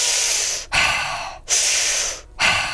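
Three deep, forceful breathwork breaths with the belly pushed out, each a loud rushing inhale or exhale separated by brief pauses, close and alone with no talking.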